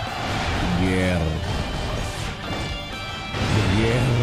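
Siege gear smashed apart by a catapult in the game Dynasty Warriors 7: loud crashing and breaking impacts within continuous battle noise, with a voice talking over part of it.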